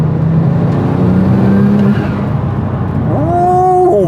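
Sportec SPR1 R sports car driving fast, a loud steady engine drone holding pitch, then dipping and climbing again through quick gear changes near the end, with no talk over it.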